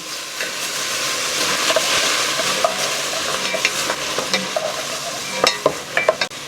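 Onions for a Guinness beef stew being stirred and sautéed in a pan, a steady close sizzle broken by repeated scraping strokes and sharp utensil taps that grow busier toward the end.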